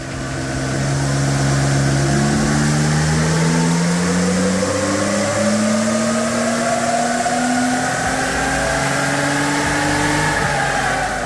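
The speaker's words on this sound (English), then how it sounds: "it's now time to go back on the dyno for a custom tune and a transmission recalibration to make it all work" Supercharged Toyota FJ Cruiser engine pulling hard on a dyno, a loud, sustained rising drone that climbs steadily in pitch through the run with a whining edge, close and continuous without voices.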